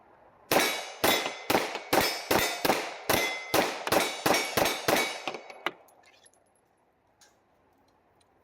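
A Rock Island STK 100 pistol fires about twelve sharp, loud shots in quick, even succession at a shooting range, followed by a faint ringing tail and near silence.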